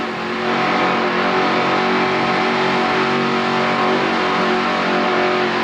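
Loud, continuous offshore racing powerboat engine roar at full throttle, heard inside the cockpit, deafening and close, a dense droning rumble with no voices.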